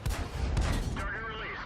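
A single tank cannon shot from a Matilda IV in World of Tanks, a loud close boom with a brief rumbling tail, followed by a voice starting to speak.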